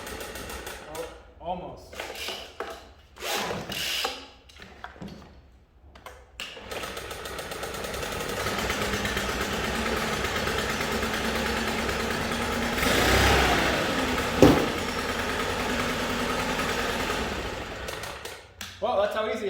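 A Stihl BR800 C Magnum backpack blower with side start is pull-started cold, with a few rough cranking bursts before its engine catches and settles into a steady, loud mid-pitched idle. A brief word is spoken early on.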